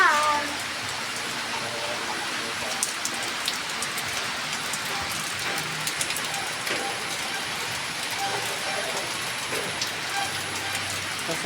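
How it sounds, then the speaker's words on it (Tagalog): Heavy rain falling steadily on surfaces nearby, a dense continuous hiss with scattered droplet taps, moderate in level and unbroken throughout. "Malakas po ang ulan mga kasipag."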